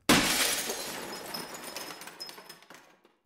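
Window glass smashing in the Five Nights at Candy's video game: a loud, close crash that bursts at once, then trails off into scattered tinkling shards over about three seconds, with no voices.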